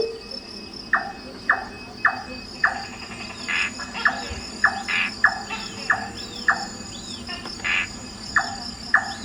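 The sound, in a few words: nightjar singing in Singapore forest at night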